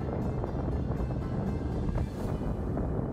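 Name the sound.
wind blowing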